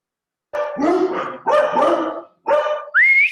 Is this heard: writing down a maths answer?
no